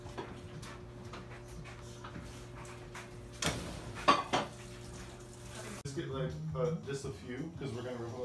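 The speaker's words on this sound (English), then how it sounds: "I'll do the dishes, right?" Dishes and cutlery clink and clatter close by in a home kitchen, with scattered knocks and a louder burst of clanging, while people talk throughout.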